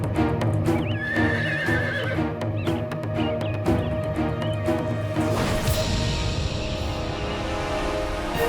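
A horse neighs and whinnies loudly over clip-clopping hooves, with a crash-like burst of hoof noise near the end; no one speaks.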